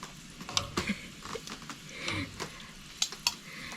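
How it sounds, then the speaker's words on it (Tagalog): Quiet sizzling of dried fish frying in a pan, with scattered clicks and scrapes of utensils stirring against the pan. "Kunti-kunti lang yung piniprito ko nito"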